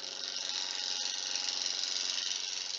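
Light gouge cuts on a wood lathe shaping a wood and compact disc case Easter egg, a steady close whirring scrape with a faint rapid ticking texture, no talking.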